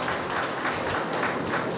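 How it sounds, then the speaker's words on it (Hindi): A gathered audience at a village council program in Seraikela Kharsawan claps faintly and continuously for a brief stretch, with no talk over it. "पहले जोरदार तालियों से इनका स्वागत किया जाए"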